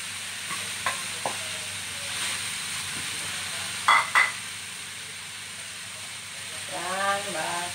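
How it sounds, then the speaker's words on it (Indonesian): Ingredients for fu yung hai, including meatballs, are stir-fried in a pan with a steady hiss of sizzling, punctuated by a few sharp clinks of a utensil against the pan. "kita masukkan semua bahan untuk ditumis"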